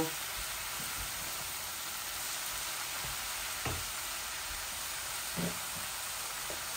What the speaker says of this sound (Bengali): এখন আমি চিকেনগুলা ঢেলে দিব।